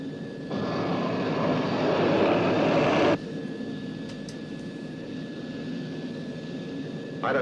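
A loud roaring aircraft engine drone, surging louder for a few seconds then dropping to a steadier, softer rumble with faint whistling tones.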